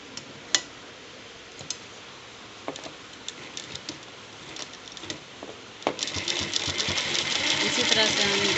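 Sewing machine running along a folded kurta hem, a steady motor whir with rapid ticking that starts faint and intermittent, then grows louder and continuous near the end.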